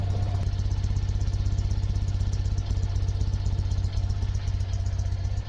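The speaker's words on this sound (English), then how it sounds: "The choke is in, and we'll let this just tick over for a bit." Classic car engine idling with the choke pulled in, freshly fitted stainless exhaust, ticking over steadily and loud with a constant low rumble throughout.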